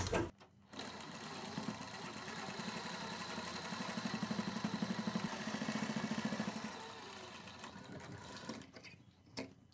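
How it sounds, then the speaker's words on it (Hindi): A sewing machine runs steadily for about nine seconds, stitching a seam on a kurti sleeve with a button-style poncha design, its motor whirring and needle clattering at close range before stopping briefly near the end. "और एक सिलाई हम इस साइड लगाएंगे।"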